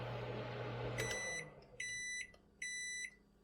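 Microwave oven beeping three times, each long, bright tone evenly spaced, heard close and clear after a low appliance hum and a click as it stops.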